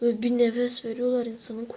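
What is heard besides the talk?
None of the usual background noises is heard.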